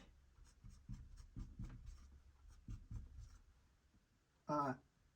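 A pen writes on a surface, heard as soft scratchy strokes in short bursts under a man's speech, close by, with one brief louder vocal sound near the end.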